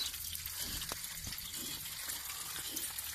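Steady water gushing and splashing from an opened tap while flushing a Citroën ZX 1.4i engine cooling system, continuous and fairly loud, with a few faint knocks underneath and no voices.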